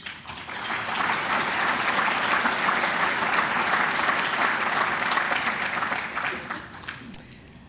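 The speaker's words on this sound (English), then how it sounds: "So let's give them a round of applause too." Sustained audience applause at an annual meeting, a full crowd clapping steadily for several seconds before tapering off near the end.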